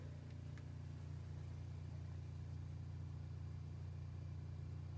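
The water pump in a Casita travel trailer runs with a steady low hum and drone, constant and fairly quiet throughout, with no talk over it.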